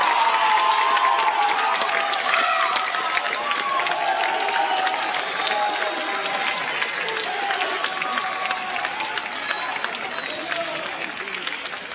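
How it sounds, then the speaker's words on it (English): An audience at a high school band concert gives a round of applause, a dense wash of many hands clapping with a few cheers. It stays steady and fairly loud for the whole stretch, easing slightly toward the end. "Round of applause for Andrew."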